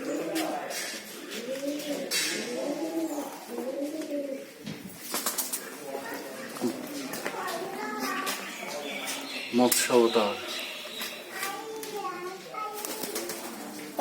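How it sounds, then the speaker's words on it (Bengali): Pigeons coo in repeated rolling phrases at the Nasibpur Rajbari palace, with occasional wing flaps. The cooing runs steadily throughout while people talk over it. "পায়রা"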